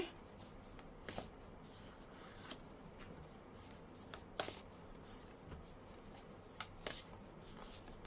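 Oracle cards being shuffled for a fortune reading, a soft, quiet papery riffle with a few sharper flicks and snaps scattered through, with no talking.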